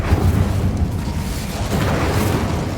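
A fire spell cast in Hogwarts Legacy lets loose a loud, sustained roaring blast with deep rumbling low end, holding steady for a few seconds with a slight swell near the middle.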